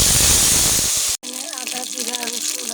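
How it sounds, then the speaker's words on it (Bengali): Water gushes loudly from a tap for about a second, then cuts off abruptly, leaving a quieter sizzle and clatter as a pan of ginger, cumin and garlic paste cooks, with a voice talking over it. "এখানে আমি অল্প একটু জল দিয়ে দেবো মশলা কষানোর জন্য।"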